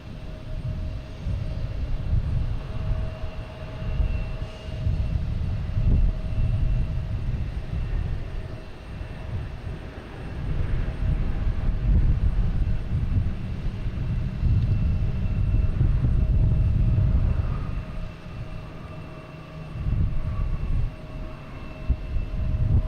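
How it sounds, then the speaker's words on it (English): Korean Air Boeing 777 airliner arriving at Boston Logan from Seoul: a loud, sustained low jet roar with wind rumble, swelling and easing over the full stretch, with no talk. "we have Korean Air coming in from Seoul. 777."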